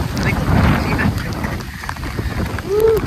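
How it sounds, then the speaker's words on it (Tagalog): Strong typhoon wind roars and buffets the microphone in heavy, rumbling gusts outdoors, with voices speaking faintly through the noise. "Grabe yung taas ng hangin."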